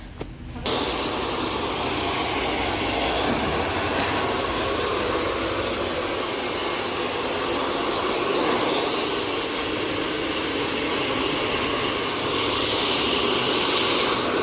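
Blow dryer drying hair during a keratin treatment, a loud continuous broadband whoosh of rushing air that starts abruptly and holds steady for the whole stretch.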